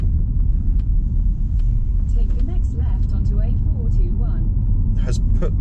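A Polestar 2 electric car drives on an A-road with a steady low road and tyre rumble throughout, while a person talks over it inside the cabin.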